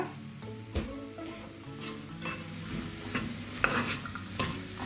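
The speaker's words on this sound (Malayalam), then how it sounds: "ഇടയ്ക്കിടയ്ക്ക് ഇളക്കി കൊടുത്തിട്ട് വേവിച്ചെടുക്കുക" Okra and coconut thoran stir-frying in a pan, a low continuous sizzle with intermittent spatula scrapes and light taps against the pan, close up.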